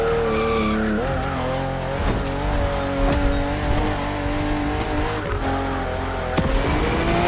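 A BMW CSL with a BMW M 50th anniversary emblem, driven in the racing game The Crew Motorfest: a continuous loud engine drone with shifting pitch and gear changes, and tire squeal rising near the end.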